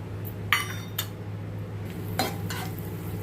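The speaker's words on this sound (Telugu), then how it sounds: "ఆవాలు, జీలకర్ర, ఎండుమిర్చి, కరివేపాకు వేసుకొని కాస్త ఫ్రై చేసుకుంటున్నాను" Mustard seeds, cumin, dried chilli and curry leaves fry in about three spoons of oil in a pan, a low steady sizzle punctuated by several sharp clinks and scrapes of a utensil stirring.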